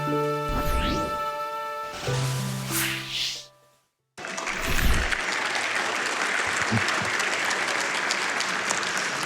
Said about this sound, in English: I agree with the audience clapping.